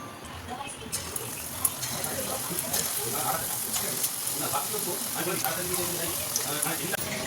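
Chicken pakoras coated in cornflour and egg deep-fry in hot oil, giving a dense, steady bubbling sizzle close by. Small clicks and taps come through now and then, and faint talk may sit underneath.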